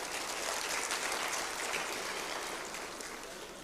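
An audience at the Oxford Literature Festival debate applauds to welcome the guests, a steady dense patter of many hands clapping at moderate volume that tapers slightly toward the end.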